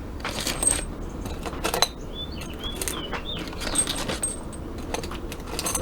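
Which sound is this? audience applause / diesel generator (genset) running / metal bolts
metal bolts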